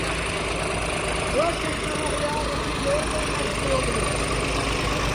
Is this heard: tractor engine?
yes